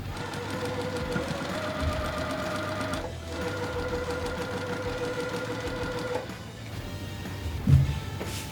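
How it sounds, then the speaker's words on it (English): A sewing machine stitches quilt blocks together in a steady, even whir that runs almost unbroken, with a short pause midway and a faint clunk near the end. "I'm gonna sew these together"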